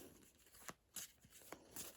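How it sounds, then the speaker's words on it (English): Board game cards being shuffled into a face-down deck, giving several quick papery riffling bursts in close succession, near and moderately loud, with no talking over them. "They can shuffle these and form"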